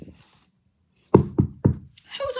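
A door is knocked three times in quick succession, loud and close, after a quiet pause; a voice begins talking right after the knocks.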